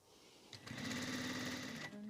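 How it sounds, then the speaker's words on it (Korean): A sewing machine stitches down a strap in one short, close whirring run that starts up, holds steady for about a second and a half, then eases off, with faint background voice nearby. "여기서 박음질 합니다."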